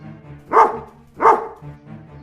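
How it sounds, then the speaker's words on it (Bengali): A cartoon dog in a Bengali animated story barks twice, two sharp, close barks about three-quarters of a second apart, with quieter low sounds around them. "আরে এ তো সেই কুকুরটা"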